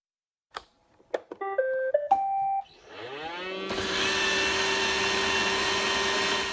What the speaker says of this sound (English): this is the sound of a robot vacuum cleaner